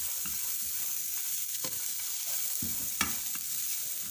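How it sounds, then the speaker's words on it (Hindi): Raisins and almonds roast in a pan and hiss faintly and steadily. Sparse scrapes and taps of a spoon stir them, with a sharper clack near the end, and no voices. "इसको भी साथ ही रोस्ट करेंगे।"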